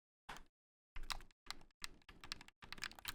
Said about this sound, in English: let me take the Xbox One controller's D-pad and put it up against the mic